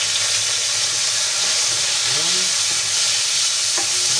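Garlic sautéing in a hot pan for a chicken feet Bicol Express gives a loud, even sizzle and hiss, broken by a couple of soft stirring scrapes, with no talking.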